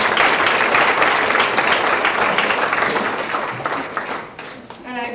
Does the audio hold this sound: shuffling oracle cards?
no